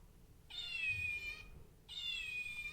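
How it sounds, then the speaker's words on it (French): Two electronic toy cat meows, each a bright, sustained synthetic cry about a second long, separated by a short pause over faint background rumble. "ce chat fait du bruit"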